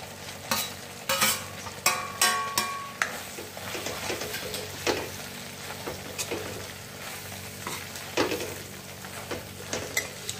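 Drumstick pods tossed into hot oil with peanuts, stirred with a spoon that scrapes and clinks against the pan in repeated strokes over a steady close sizzle of frying.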